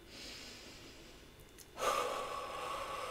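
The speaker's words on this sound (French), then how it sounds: "En inspirant par le nez, en expirant par la bouche" A few deep, slow breaths during a guided relaxation, air drawn in through the nose and let out through the mouth, soft and close with a steady airy hiss that swells louder midway, no talking over it.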